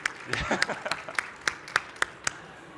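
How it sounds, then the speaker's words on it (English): A handful of distinct, separate claps from a conference audience after a wallet panel invites questions, sharp and fairly close, spaced irregularly and tapering off. "And applause is good too."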